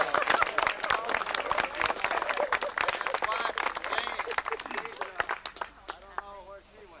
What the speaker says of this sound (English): let's give Ed Hoffman a big round of applause